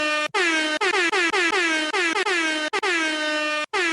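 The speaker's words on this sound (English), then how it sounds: "I'm just gonna give a little celebratory air horn." A celebratory air horn sound effect blares in a loud series of repeated blasts, some short and some held, separated by brief gaps.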